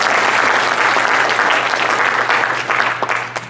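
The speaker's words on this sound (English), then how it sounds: "Please give all of these organizations a big round of applause for all the work that they do to support us." Sustained audience applause at an anniversary gala, dense clapping from a large crowd honoring sponsoring organizations, steady and loud throughout before tapering slightly near the end.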